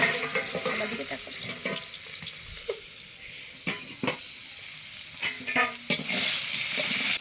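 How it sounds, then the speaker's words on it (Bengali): Potatoes fry in a pan with a steady hiss and sizzle, joined by scattered stirring clatters and scrapes that grow more frequent toward the end, with no talking. "তো হচ্ছে মাংস রান্না করব, তাই আলুটা ভাজছি"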